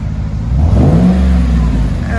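A 2007 Chevy Suburban 5.3L V8 with a Magnaflow exhaust revs once close up, its deep low rumble swelling and easing back under a steady idle.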